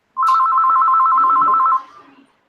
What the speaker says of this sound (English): Oh, that's an old phone dial.